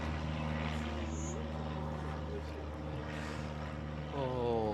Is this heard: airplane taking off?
yes